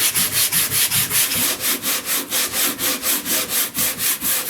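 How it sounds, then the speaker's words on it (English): Sandpaper rubbed back and forth over a joint on a windsurf boom grip during regripping, about twenty regular rasping strokes in a steady rhythm, close and loud, with no voices. "Now I'm going to start to sand this joint."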